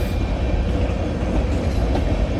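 A train rumbles past close by, a steady heavy roar of rolling cars with low rattling throughout.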